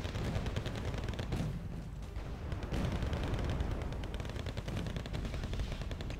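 Tank gunfire in the Wargame Red Dragon strategy game, a dense, continuous barrage of loud shots and rumbling impacts that keeps going with no pauses and no talk over it.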